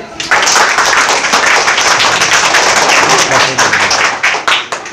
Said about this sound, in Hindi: बहुत अच्छा क्वेश्चन है, बहुत अच्छा आंसर दिए, सब ताली बजाइए